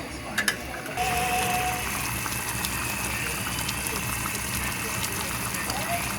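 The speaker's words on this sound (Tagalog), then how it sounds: "Hayaan lang muna natin mag-reduce yung tubig." A pot of adobo simmers covered while its liquid reduces, a steady low bubbling hiss running continuously at moderate level after a couple of brief knocks at the start.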